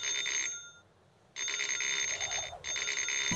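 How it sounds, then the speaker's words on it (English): A toy telephone in an elf treehouse rings with bright electronic trills: one burst, a short pause, then a longer ring briefly broken before continuing, loud and alone. "the phone begins to ring."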